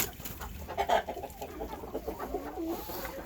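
Soft clucking and small bird calls from baby pigeons and chickens in a coop, faint and close, with scattered rustling and no talking.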